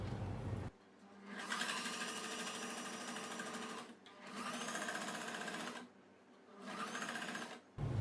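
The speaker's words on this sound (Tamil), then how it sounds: "இந்த சென்டர்கிட்ட வரும்போது நம்ம அது மாதிரி நீடில் இன் பண்ணி ஃபுட்டரை தூக்கி விட்டுட்டு அப்புறம் நம்ம வந்து டேர்ன் பண்ணி ஸ்டிச் பண்ணிக்கலாம்" Sewing machine stitching the net neck of a kurti, running in three steady rattling bursts separated by short pauses.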